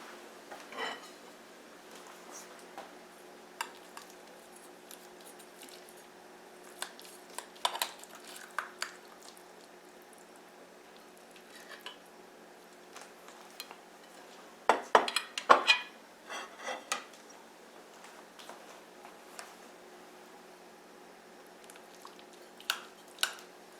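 A hashbrown and beef casserole fresh from the oven is served onto plates, with sparse clinks and scrapes of a utensil against dishware spread over a quiet room, and a busier cluster of clatter partway through.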